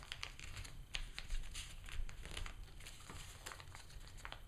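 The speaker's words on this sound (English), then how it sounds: "You make a diagonal fold right here." Origami paper is creased and folded into a transforming spaceship, giving close, soft crinkles and papery rustles in quick irregular bursts with brief pauses between handlings.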